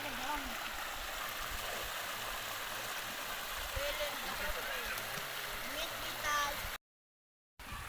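Mountain stream in the Swat valley, Pakistan, running with low water before the rains, giving a steady broadband rush and gurgle close by, with faint voices under it and a brief dropout near the end.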